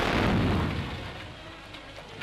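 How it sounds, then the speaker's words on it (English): A row of old houses blown up in a deliberate demolition blast for a wartime air-raid precautions drill, heard as a heavy low rumbling boom that swells at once and then slowly decays, with no talk. "they're going to get rid of them at one stroke by blowing them up to make a realistic ARP test"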